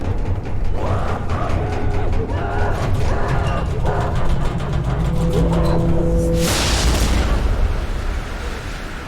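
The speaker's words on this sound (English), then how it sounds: "A furious explosion takes place" In the video game The Mortuary Assistant, a demonic explosion bursts from a cremation retort, a sudden broad blast near the end after creaking, grinding mechanical sounds, loud and close.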